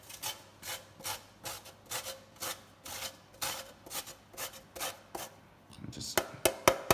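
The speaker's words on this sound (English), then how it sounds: "then we need some grated ginger. So just grate some in" Fresh ginger is grated in a kitchen with about a dozen rhythmic rasping strokes, close and fairly soft. A few sharper taps come at the end.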